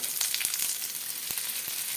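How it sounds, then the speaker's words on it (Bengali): Chopped onions sizzle and crackle in hot mustard oil, a steady bright hiss with occasional sharper pops, no talking. "হালকা করে ভেজে নেবো দিয়ে দিলাম কেটে রাখা পেঁয়াজ"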